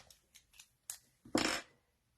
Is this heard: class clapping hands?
no